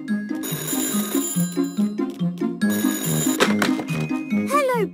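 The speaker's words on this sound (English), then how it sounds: "The phone is ringing." A cartoon telephone rings in a bright repeating trill over a cheerful melodic music bed, the ringing pattern cycling twice with a playful boing-like flourish near the end.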